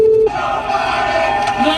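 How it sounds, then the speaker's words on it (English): A large crowd at a Talladega race chants in unison, a loud massed roar of voices preceded by a brief steady electronic tone at the start. "the crowd at Talladega was chanting the somewhat vulgar chant"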